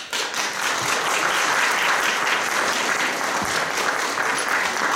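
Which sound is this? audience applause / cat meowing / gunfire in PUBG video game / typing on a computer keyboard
audience applause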